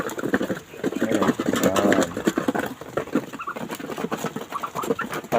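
Backyard chickens clucking at close range on a rural provincial farm, a steady run of short repeated clucks and calls with no talking.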